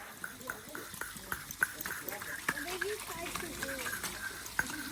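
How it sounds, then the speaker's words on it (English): Pond gravel is stirred underwater, giving soft, irregular knocks and clicks of stones shifting, with gurgling water mixed in at a faint, close level. "It's just giving the gravel a stir."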